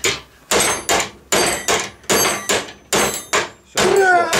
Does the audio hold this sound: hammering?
yes